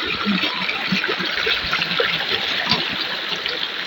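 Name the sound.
river water flowing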